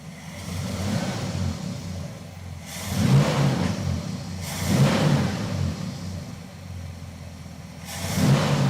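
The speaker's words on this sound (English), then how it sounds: "I'm going to give it a rev." A Dodge Charger crew cab engine revs up several times, each rev a swelling roar that rises and falls back to a steady idle, close by and with no talk over it.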